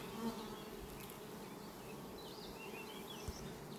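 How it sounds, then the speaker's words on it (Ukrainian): Steady insect buzzing from many bees, a continuous droning hum with a few individual bees zipping closer now and then. "все дивіться, не кидаються бджоли"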